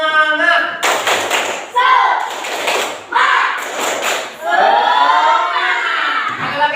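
A school class does the rhythmic tepuk semangat cheer, bursts of sharp group clapping alternating with loud chanted voices, close and lively in a classroom.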